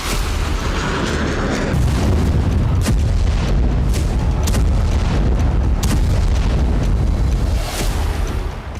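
Explosions from Israeli air force strikes in Syria: a loud, continuous roar with deep booming rumble and sharp cracks cutting through, like a sustained bombardment heard nearby.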